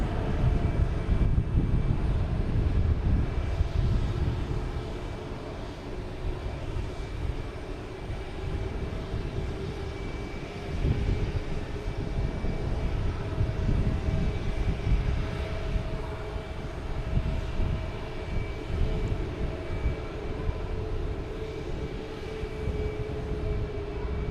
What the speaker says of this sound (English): Next taking off is a JetBlue A320 heading to Raleigh, Durham.